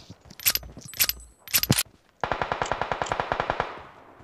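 Gunfire in the mobile battle-royale game PUBG Mobile: three sharp, loud single shots spaced apart, then a rapid automatic burst of about fifteen evenly spaced rounds that trails off into a fading echo.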